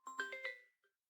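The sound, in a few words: mobile phone ringing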